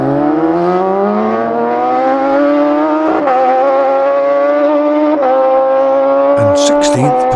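Classic superbike racing Kawasaki motorcycles scream past at the Classic TT, a loud sustained engine note with rising harmonics and gear-change dips, several machines passing in succession with a sharp burst near the end, under a voice commentating.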